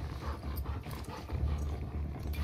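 A dog in The Last of Us II gives low, rough growls and huffs near a barbed fence, close and heavy, with some scraping and movement noise around it.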